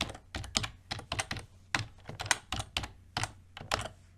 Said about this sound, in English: So here you're gonna type get